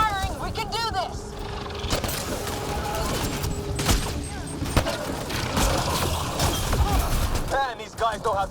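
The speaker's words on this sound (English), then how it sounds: "Just keep firing, we can do this!" Gunfire in the sci-fi shooter Mass Effect Andromeda: sustained bursts of weapon fire and impacts run steadily through the whole stretch, with game voices and chirping effects layered over the battle.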